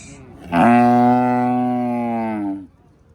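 A six-toothed cow at a cattle market lets out one long, loud, steady moo lasting about two seconds, close by, with quiet surroundings before and after.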